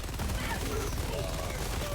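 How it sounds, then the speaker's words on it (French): Rapid gunfire in the video game Helldivers 2, steady overlapping shots and bursts filling the whole span at a constant loud level, with game noise and faint speech mixed in. "On tire un peu au pif."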